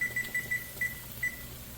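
A digital kitchen timer beeping as it is set, six short high beeps at uneven intervals, close and clear over a low background hum while cooking mee siam.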